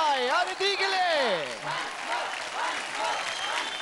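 Audience applause for a young girl named Aditi on a televised kids' dance show, a broad wash of clapping and crowd noise under a man's loud, excited voice that fades as the clapping carries on.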